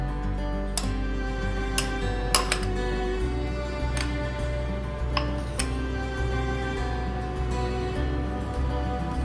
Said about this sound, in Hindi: और एक चम्मच से इन सबको यहाँ पे ऐसे मिला दूंगा।